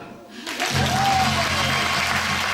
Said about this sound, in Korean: 위대한 박수